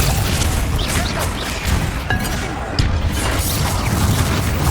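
Spell explosions and impacts in the video game Hogwarts Legacy, dense booming blasts and crashes layered continuously with a few sharper hits, loud and close throughout.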